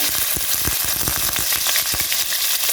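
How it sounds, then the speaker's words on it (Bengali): Chopped large onion frying in about two spoons of oil in a home kitchen pan, a steady close hiss and sizzle with soft stirring scrapes throughout, no talking. "এখন এটাকে একটু ভেজে নেব।"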